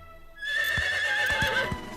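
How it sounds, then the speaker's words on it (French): A cartoon horse gives a long, loud whinny while hooves clop several times underneath, starting abruptly after a short quiet moment, with no talking. "Zoé, ton cheval ne peut pas faire quelque chose qu'il n'a jamais appris"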